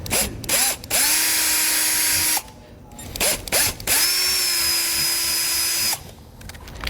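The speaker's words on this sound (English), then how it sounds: "we're going to take a smaller drill bit and we're going to drill out a pilot hole here." A power drill with a small bit bores a pilot hole through a dash panel of a 2020 vehicle, producing two steady, close whining runs separated by a short pause and brief clicks.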